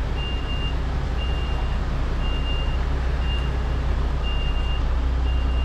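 A reversing vehicle's alarm beeps steadily, evenly spaced about every second, heard from a car in road traffic over a loud, constant engine and road rumble with no talking.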